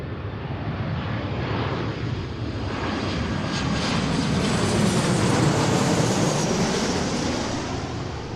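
An Alaska Airlines jet arriving from LAX lands on runway 34 left, its broad engine roar steady and loud throughout, swelling slightly near the middle and easing toward the end, with no voices.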